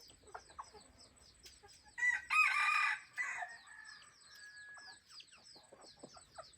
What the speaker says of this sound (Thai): ไก่ปลาตัวนี้ปล่อยออกแล้ว